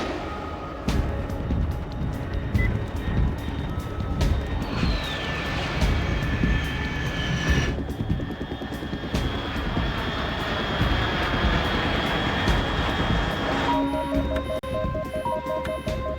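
A jet aircraft in a Dark Souls 3 mod roars steadily and loudly for the whole stretch, with whining engine tones that rise and shift. Near the end, electronic beeps and tones join in.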